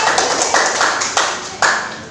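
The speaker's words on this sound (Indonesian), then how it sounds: "Tepuk tangan buat Cynthia." Students in a classroom clap for a classmate in a few sharp, loud, rhythmic bursts, each fading quickly into a soft room wash.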